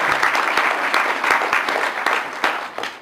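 Steady round of audience applause at a community health conference in the Southeast region, many hands clapping fairly close and loud throughout with no pause.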